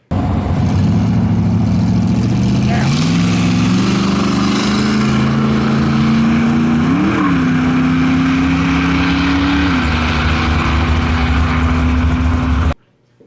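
A Chevrolet S-10 drag car with a bad U-joint launches off the line at a drag strip. Its engine drones loud and close, climbing in pitch in a few steps before cutting off abruptly at the end.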